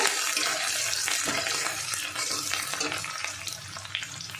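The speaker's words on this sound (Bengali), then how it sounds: "2 চামচ রসুন কুচি দিয়ে দিলাম। একটু নেড়ে নেব।" Chopped garlic fries in oil in a pan for egg tadka, with a loud, dense sizzle throughout. Spatula stirring comes through close up as scraping movements mixed into the hiss.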